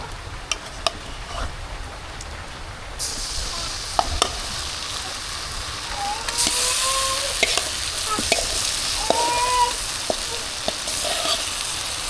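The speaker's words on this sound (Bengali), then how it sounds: "এখন হচ্ছে আমি মাখানো মাংসটা দিয়ে দিই" Marinated beef hits browned fried onions in a pan and sizzles steadily, with a louder hiss from about three seconds on and light stirring clinks, while a village rain patters in the background.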